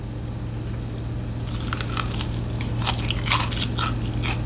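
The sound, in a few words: biting into a crunchy fried bakwan vegetable fritter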